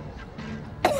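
A person gives a single sharp cough on command near the end, close to the listener, after a quiet stretch.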